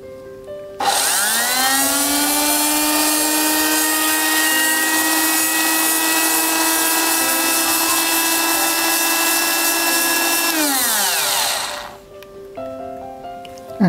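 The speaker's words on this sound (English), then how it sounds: "This is our homogenizer and we are going to homogenize the tissue sample." A laboratory homogenizer crushes a fish tissue sample for DNA isolation, a loud steady high-pitched motor whine that starts abruptly, holds for about ten seconds, then slows and drops away.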